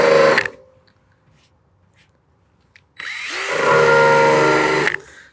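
An electric drill rated around 1,800 RPM spins an eraser wheel against car paint: a short burst of whirring, a quiet gap, then a loud sustained grinding spin-up lasting about two seconds before cutting off.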